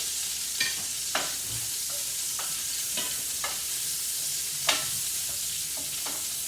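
Meatballs fry in a pan for Cajun spaghetti and meatballs, giving a steady hiss with scattered clicks and scrapes of stirring, close up, with no voices.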